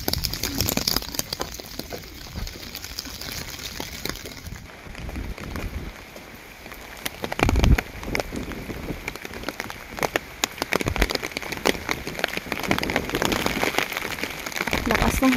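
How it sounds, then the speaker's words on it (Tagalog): Heavy rain pours down in cold UK weather, a loud, close, steady hiss of drops with gusts of wind swelling and fading throughout. "lumakas pa lalo yung ulan"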